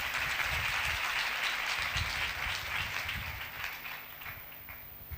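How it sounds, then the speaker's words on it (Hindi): A large church congregation claps enthusiastically in sustained applause during a sermon, gradually fading toward the end. "खुदा के जलाल के लिए जोरदार ताली"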